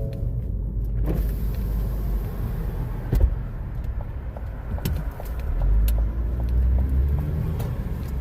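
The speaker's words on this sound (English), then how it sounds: "It's a bus." A bus rumbles nearby on a road, heard from inside a car as a steady low engine drone with a few light clicks and knocks, no talking.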